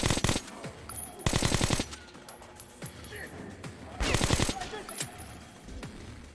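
Bursts of automatic gunfire in the Metro Last Light video game, two loud sustained volleys separated by quieter stretches with scattered shots and clatter.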